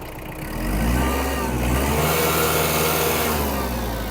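Four-cylinder engine of a Mitsubishi MT-285 mini tractor, rated at 28 horsepower, revving up and holding a loud, steady roar close by throughout, with no talking.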